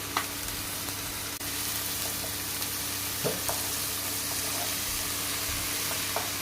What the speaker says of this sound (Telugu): ఇప్పుడు మనం కట్ చేసి పెట్టుకున్న ఈ స్ప్రింగ్ ఆనియన్ దీంట్లో వేసుకుందాం